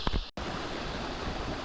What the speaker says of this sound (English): Just all these rapids are so cool.